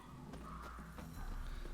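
Rhythmic hoofbeats of a horse clip-clopping in the video game The Witcher 3: Wild Hunt, over a steady low rumble, with a brief whinny-like tone early on.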